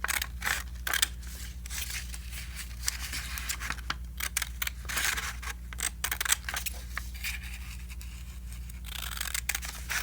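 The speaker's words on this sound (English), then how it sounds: "I'm only going to cut to the edge of the inner circle. And I'm going to cut all these lines that I've drawn." Scissors snipping through paper along drawn lines, a quick irregular run of short crisp cuts close to the microphone over a low steady hum, with no talking.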